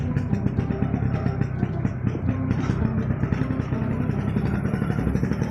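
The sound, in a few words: Vespa scooter riding up a mountain road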